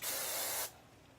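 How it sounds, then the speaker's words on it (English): A short, loud burst of hairspray hisses from an aerosol can onto hair for about half a second, then stops abruptly, leaving a faint room background. "And then I'm going to follow it with a stronger hairspray"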